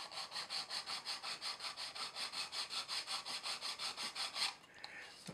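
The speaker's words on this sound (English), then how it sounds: "And just gently sand." Thin 0.5mm plastic card being sanded by hand to shape an angle, close rhythmic back-and-forth rasping strokes at an even quick pace that stop near the end, followed by a few small handling sounds.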